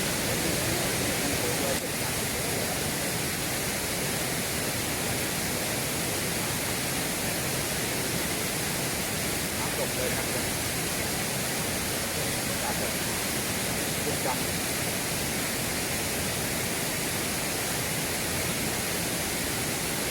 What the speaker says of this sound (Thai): นี่ครับน้ำตกอยู่ที่มุมสูงเลยนะครับ